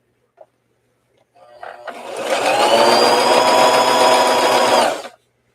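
A sewing machine stitches doll dress fabric after a short tap of silence, starting up and running in one steady, loud whirring burst for about three seconds before stopping abruptly.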